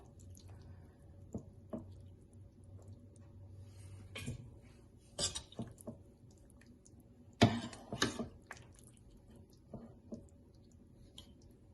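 Cooked pepper steak is lifted out of its gravy with a strainer and moved into another bowl, making faint scattered drips, wet squishes and light taps of the strainer against the bowl.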